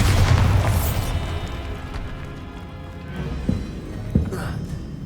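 Spell explosions from the Bombarda charm in Hogwarts Legacy: a loud booming blast at the start that rumbles and fades, followed by smaller pops and thuds.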